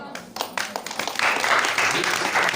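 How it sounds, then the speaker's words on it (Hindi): Applause rises after a brief moment of speech, a dense crowd clapping that swells and holds steady, loud and close. "तालियां बजाइए।"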